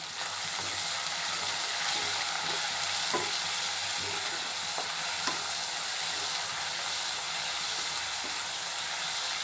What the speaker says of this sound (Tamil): ரெண்டு மிளகாய், ரெண்டு கருவேப்பிலை எல்லாத்தையும் போட்டு திரும்ப வதக்கணும்.